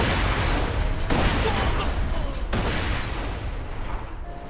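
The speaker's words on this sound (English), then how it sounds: "I saw those explosions from here!" Dense gunfire and explosions from a Borderlands 2 video game battle fill the scene as a continuous loud barrage, with a few sharper blasts standing out and the din never letting up.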